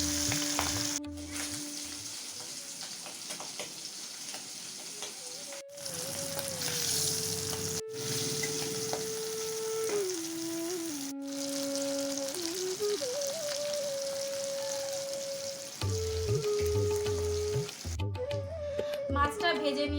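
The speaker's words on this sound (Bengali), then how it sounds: "মাছগুলো এক এক করে ভেজে নেব।" Pangas fish pieces fry one by one in hot oil, a steady, fairly soft crackling sizzle running under melodic background music, with brief breaks and louder spatters toward the end.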